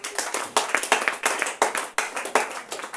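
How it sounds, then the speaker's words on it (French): A church congregation claps together in a brisk, uneven rhythm of many hands, loud and close, with no other sound over it. "Acclame pour le roi."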